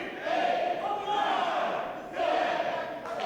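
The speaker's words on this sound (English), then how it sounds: "So nice to know that the fans of Hollywood know how to count to 10." A wrestling arena crowd in Hollywood chants loudly in unison, counting along with punches thrown in the corner, the rhythmic group shouts rising and falling in three broad waves.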